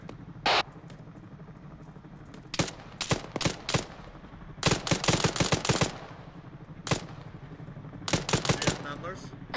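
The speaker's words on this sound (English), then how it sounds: "Suppressive fire, guys! Suppressive fire!" Rifle and machine-gun fire in the military shooter Arma 3, heard as loud bursts of rapid shots and single cracks in clustered volleys, with voices calling out over the battle.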